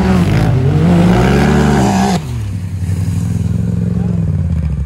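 Can-Am X3 and Polaris RZR side-by-sides drifting in snow: a loud, close engine rising and falling in pitch, cutting off abruptly partway through, followed by a lower rumbling idle.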